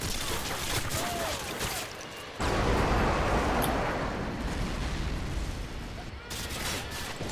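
Gunfire in a shooter video game: loud, rapid bursts of shots crackle close and nearly nonstop, with a heavier, denser barrage cutting in partway through before easing back to sharp volleys.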